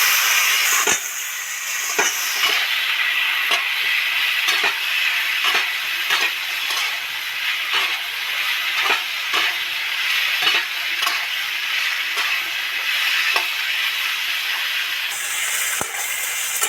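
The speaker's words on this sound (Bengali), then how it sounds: "ভাজা ভাজা হয়েই গেছে এবার এর মধ্যে আলু বেগুন আর টমেটোটা উঠিয়ে দেবো" Potato, eggplant and tomato fry with ginger paste and spices in hot oil for a water spinach labra, giving a loud, continuous sizzle. Regular scraping stirs of a spoon punctuate the sizzle, with no talking.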